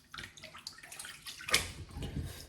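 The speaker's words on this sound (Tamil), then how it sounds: "சிக்கனுக்கு சுடு தண்ணி ஊற்றியாச்சு" Hot water is poured over raw chicken in a home kitchen as biryani is prepared, a close, steady splashing stream that swells midway and keeps running to the end.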